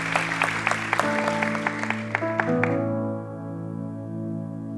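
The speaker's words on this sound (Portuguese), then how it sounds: "Dê um aplauso bem forte." Church congregation applauding at an evening service, a steady broadband clatter of many hands under a sustained organ or keyboard chord, the clapping fading out after about three seconds while the music lingers.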